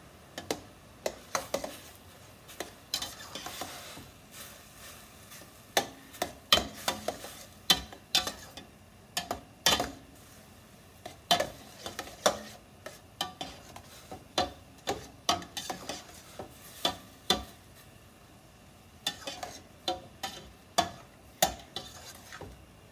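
Ground meat for sloppy joes cooks through to a crumble in a pan. A steady, gentle sizzle runs underneath while a utensil scrapes and taps against the pan again and again, in irregular bursts that carry on throughout, with no talk.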